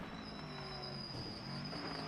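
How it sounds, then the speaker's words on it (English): A thin, high-pitched brake squeal from a Ford Falcon race car holds steadily over the low drone of its engine at Mid-Ohio, with no talking. "Just hear the brakes squealing away there on the old Falcon."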